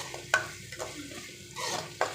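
Small onions dropped into hot oil for a squid fry, giving a soft steady sizzle with a few sharp stirring scrapes near the start and end, close and fairly quiet.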